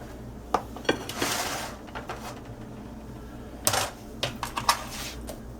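Metal sheet pan of roasted smoked sausage and vegetables scraped and shifted across a surface, a handful of sharp clanks and brief scraping bursts scattered through an otherwise quiet kitchen, with no talk.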